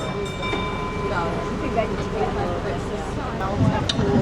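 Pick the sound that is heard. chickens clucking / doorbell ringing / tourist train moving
tourist train moving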